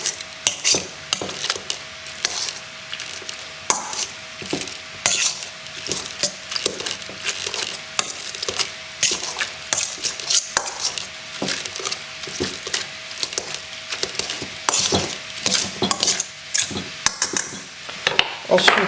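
Cooked celery gets mashed into a purée, the masher striking and scraping the pot in a quick, irregular clatter of knocks and squelches that keeps going close by, with a faint voice now and then.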